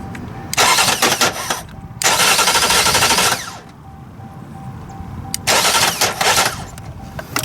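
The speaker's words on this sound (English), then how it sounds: "I can crank the engine now." A car engine is cranked by its starter, powered through a relay, without catching. Three loud, close cranking bursts of about one to two seconds each are separated by short quiet pauses, with no talking.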